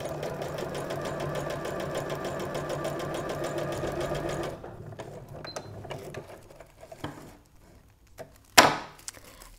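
A sewing machine stitches fabric with a stabiliser underneath, running in a rapid, steady, close whir for about four seconds before stopping, followed by quieter handling noises and a sharp rustle.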